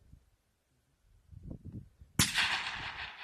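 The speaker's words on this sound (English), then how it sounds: "Good shot, Kenzie." A single sharp rifle shot at an antelope on an Eastern Cape hunt in South Africa, loud and sudden after a few faint murmurs and rustles, followed by a long fading rumble.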